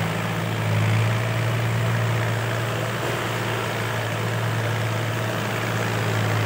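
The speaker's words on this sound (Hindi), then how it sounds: "हवाई जहाज उड़ता हुआ, हवाई जहाज।" A propeller airplane drones overhead with a steady low engine hum that holds level throughout, loud and unbroken, in a rural farm setting where a Fiat 480 tractor works.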